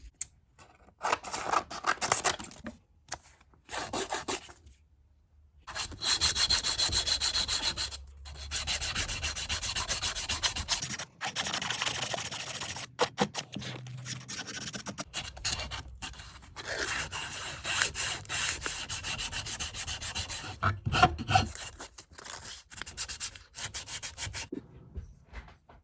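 Close-up sanding on a wooden crankbait fishing lure, with bursts of rough scratchy rubbing separated by short pauses, sometimes rapid and sometimes in longer strokes.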